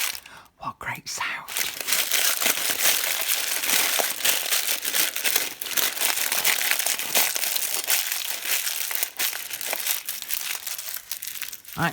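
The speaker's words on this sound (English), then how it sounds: "I'm going to scrunch it up." A sheet of greaseproof paper is scrunched into a tight ball, giving a continuous, dense crackle and crinkle close up for several seconds, with brief handling noises at the start.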